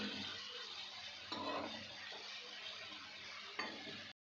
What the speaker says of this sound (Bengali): এবার একটু লাল লাল করে পেঁয়াজটা ভাজা হবে